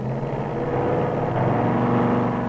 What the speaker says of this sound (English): Bruce will be measuring foot-pounds of torque to be converted to horsepower as the dynamometer simulates a car running full power on the track